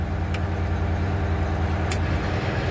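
Oshkosh M1070 HET heavy military truck diesel idling steadily and close, a deep constant drone with two brief faint clicks as the PTO engages.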